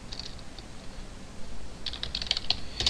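Rapid keystrokes on a computer keyboard while C++ code is entered, sparse clicks at first, then a denser burst of close, crisp taps with no talking.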